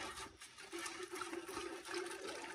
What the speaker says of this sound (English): And we're gonna rinse it with just some distilled water.